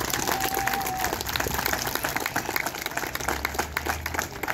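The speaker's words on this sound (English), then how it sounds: "Let's give them all a good round of applause." Outdoor crowd at a police appreciation event on National Night Out in Sweetwater applauding officers, a steady spread of clapping for several seconds, fairly distant and continuous without pauses.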